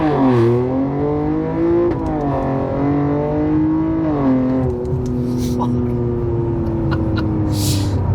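A 500HP Nissan Z pulls hard through the gears, its engine note climbing and dropping at each of several shifts. The car is loud and close, with a brief voice near the end.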